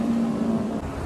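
A Honda Accord drives past on a street, a steady close engine-and-tire hum with a low tonal drone that eases off near the end, no voices over it.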